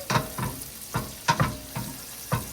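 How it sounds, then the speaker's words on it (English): Pancetta fries in a pan alongside garlic, butter and olive oil. Close, quiet sizzling is broken by several short stirring bursts at irregular intervals. "Pancetta is cooking."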